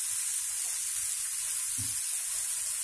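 Chopped medium onions sizzle and fry in a pan with a steady, soft hiss and a few quiet stirring bumps. The frying stays faint and continuous, with no talking.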